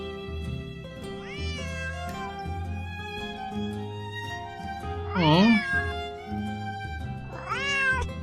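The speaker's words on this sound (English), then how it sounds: "Otherwise, he'll just keep meowing." Yuri the cat, from Nancy Drew: Secret of the Old Clock, meows three times in long wavering calls over soft background music, and one brief spoken remark is heard.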